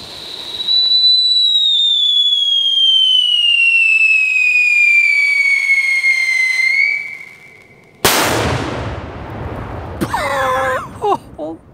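A Cobra 8 or Scream 4 firecracker whistles with a long falling tone, goes briefly quiet, then bursts in one loud, sharp blast, followed by crackling debris and a short second outburst.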